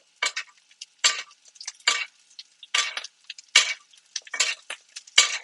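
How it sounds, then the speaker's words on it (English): Arctic char basted in a frying pan, hot fat spooned over the fish in repeated short bursts of sizzling spatter, each splash rising sharply and fading, with brief quiet gaps. "But first, I'm going to baste a little bit more."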